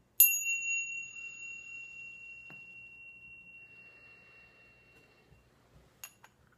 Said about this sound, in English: Starting the meditation with a chime